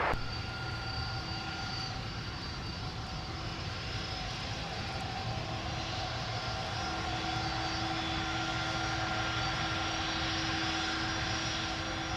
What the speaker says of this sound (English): And Alex, keep an eye on the 330 that's taxiing.